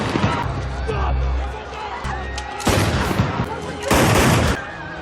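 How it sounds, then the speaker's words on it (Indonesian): Gunshots in a film scene as one agent shoots at another: sharp loud bursts of gunfire hit in a couple of clusters, set among other action noise, with a voice speaking over part of it. "Weston mengejar Tobin dan menembaknya saat itu juga."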